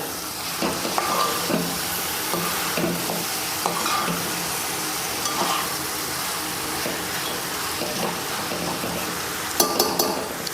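Potatoes being stirred into a chicken curry for puttu, a dense steady sizzle with repeated scraping and clinking of a spoon against the pot, close and fairly loud, no talking.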